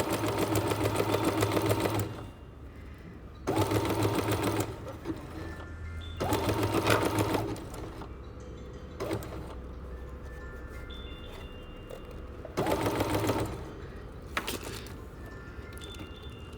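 Sewing machine running a rolled hem foot along fabric edge, stitching in several bursts of about one to two seconds each, separated by quieter pauses while the fabric is readjusted; close and steady whirring.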